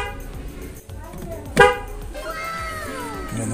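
A snail horn newly installed on a Toyota Wigo sounds one short, loud honk near the middle, with steady ambient noise and faint background voices around it.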